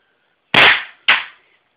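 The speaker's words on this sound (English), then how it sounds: "It's a pretty stout air gun." Two sharp, loud shots from a Taurus PT 92 airsoft pistol firing plastic BBs, close by and about half a second apart, each a crisp snap with a brief decaying tail.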